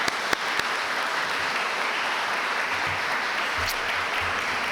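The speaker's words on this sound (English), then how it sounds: "So I'd just like to give him a round of applause." A graduation-ceremony audience at a police cadet graduation gives a steady, full round of applause that fills the hall evenly from start to finish, with a couple of sharper individual claps near the start and no speech over it.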